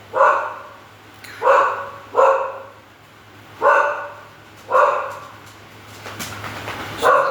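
A dog indoors barking out the window at other dogs outside, five loud close barks spaced about a second apart, followed by softer whimpering noises.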